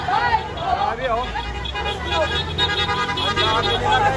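Car horns toot repeatedly from passing motorists on a busy street in Malolos, Bulacan as young protesters gather, heard amid dense crowd voices and traffic rumble.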